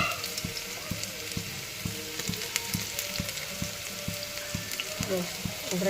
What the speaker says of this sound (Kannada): ಈರುಳ್ಳಿ ಎಲ್ಲ ಸಣ್ಣದಾಗಿ ಹಾಕ್ಕೊಂಡು ಕುಕ್ಕರಿಗೆ ಒಗ್ಗರಣೆಗೆ